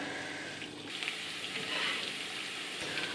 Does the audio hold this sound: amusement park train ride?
no